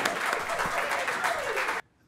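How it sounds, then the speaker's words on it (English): Audience at a Toronto literary cabaret gives a warm round of applause for a writer, steady dense clapping filling the room for nearly two seconds before stopping abruptly into silence. "a warm round of applause for Matthew Gordon."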